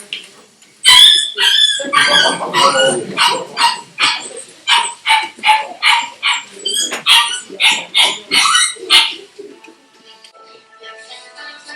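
A dog barks repeatedly and loudly up close, a rapid run of sharp yips and barks before trailing into quiet.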